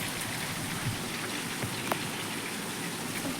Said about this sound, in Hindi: तेज़ बारिश आ गई।